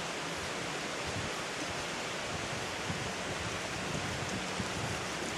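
Water poured into a metal canteen cup at a camp stove, a steady soft hiss of liquid running for several seconds, faint and unbroken, with no talk.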